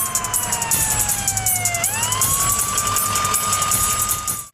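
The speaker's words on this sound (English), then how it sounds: "And then comes the ambulance" A loud ambulance siren wails nearby, its tone sweeping down and then rising again as the vehicle approaches and passes, with a rapid pulsing chirp layered on top before it cuts off abruptly.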